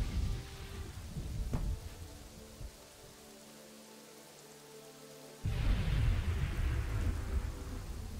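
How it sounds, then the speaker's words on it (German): A thunderstorm with rain in the video game Kingdoms and Castles: steady rainfall, a sharp crack, then a quieter lull before a loud, rolling burst of thunder and heavier rain takes over. "Der Gewitter, und mich schlägt wieder nirgendwo der Blitz ein und brennt wieder."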